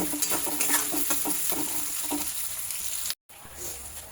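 Chopped onions frying in hot oil in a pan until reddish brown, a loud steady sizzle with scraping stirs, cut by a brief dropout near the end.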